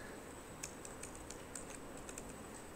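A website name is typed on a computer keyboard, a quick irregular string of light, close key clicks over a steady background hiss.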